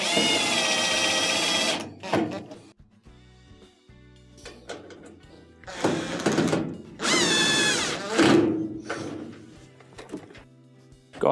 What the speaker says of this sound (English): put it in by hand before you start drilling